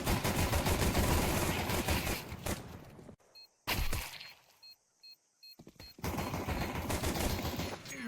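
Dense bursts of rapid gunfire in a Counter-Strike match, loud and continuous, broken by a short silence with faint game beeps before the shooting resumes.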